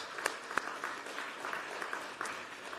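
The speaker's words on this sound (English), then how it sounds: "Round of applause for all those watching on the web stream." Conference audience applauding at a European ocean event, a soft, scattered patter of clapping with a few sharper individual claps, faint and somewhat distant.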